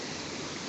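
A steady close roar of rushing water comes from the Uluzden river and its waterfall, a broad unbroken wash of sound with nobody speaking.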